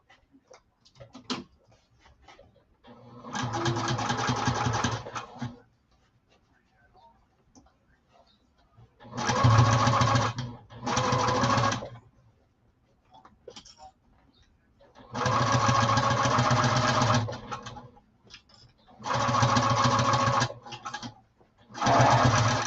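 A sewing machine stitches the exterior corners of a saddlebag in four or five separate bursts of steady motor whir, each a few seconds long, with quiet pauses and faint clicks between.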